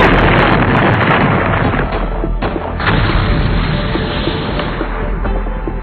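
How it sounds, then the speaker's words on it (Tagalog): War-like explosions in the animated series Hunter x Hunter form a continuous, very loud rumbling barrage, with heavy booms overlapping without pause. "Sa mga pagsabog na naririnig natin, parang may nagaganap na gyera."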